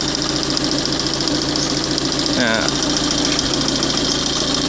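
A homemade common-rail diesel engine converted to run fully on LPG idles steadily and close by, with a constant knocking drone throughout while someone talks over it.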